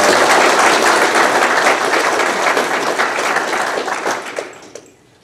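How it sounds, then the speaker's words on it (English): A seated audience at a lecture gives a loud, full round of applause that holds steady, then thins out and fades to quiet near the end. "So give yourself a round of applause."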